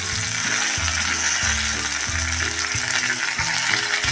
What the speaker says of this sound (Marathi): कांदा थोडा मऊ पडेपर्यंत आपण असं चांगला हा परतून घ्यायचा आहे